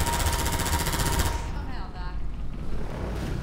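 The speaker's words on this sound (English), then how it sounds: "Fire airboat gun." An airboat's mounted gun fires in Half-Life 2, a rapid mechanical burst for about the first second and a half that then cuts off, leaving a quieter stretch with voices in the clip.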